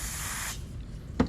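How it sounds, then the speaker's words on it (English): Contact cleaner is sprayed onto the race of a ceramic bearing in a close, steady hiss lasting about half a second, followed by a brief faint knock. "I'm gonna grab my contact cleaner and spray out the race here"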